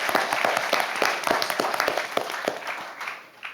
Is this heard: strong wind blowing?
no